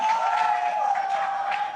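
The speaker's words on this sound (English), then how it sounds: "Let them cheer for a sec." A large arena crowd at an esports knockout match cheers in a sustained, dense roar with a steady high tone running underneath, continuous and fairly loud.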